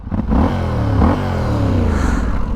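A Yamaha Tenere 700 motorcycle fitted with a slip-on exhaust that still has its reducer revs up twice in quick succession, its engine note climbing sharply and then holding a loud, throaty drone up close.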